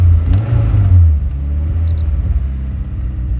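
A 300 hp turbocharged Tofaş Doğan engine revs loudly up close, a deep throaty rumble peaking early, then settling into a steady, slightly rough idle.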